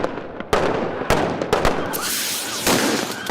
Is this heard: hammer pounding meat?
no